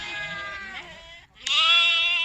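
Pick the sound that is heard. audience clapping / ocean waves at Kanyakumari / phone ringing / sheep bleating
sheep bleating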